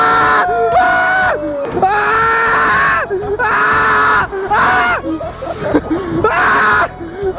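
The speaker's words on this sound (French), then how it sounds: "Je crie comme un enfant en fait" Shrill, childlike screaming bursts out again and again in a busy New York street or crowd, loud and close, with breaks between cries and background chatter from others nearby.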